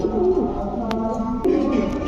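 Soft, low cooing of Bombay and other fancy pigeon breeds on a pigeon farm, repeating in rolling phrases, close by, with a couple of brief sharp clicks.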